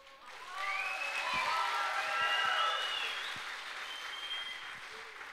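Sustained applause from a concert audience at a singer's show, steady and fairly loud throughout, with whistles and cheering voices rising above the dense clapping.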